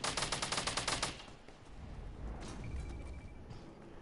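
Automatic gunfire shooting at a supply drop in the video game Fortnite: a rapid, evenly pulsing burst lasting about a second, then fading into a rough, steady wash of game noise.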